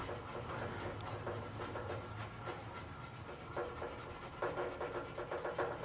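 Steel wool, grade 4/0, rubbing rust stains off a chrome bumper from a Chevy C10 squarebody truck, a steady scratchy scouring with rhythmic strokes that grow louder near the end, close up and alone.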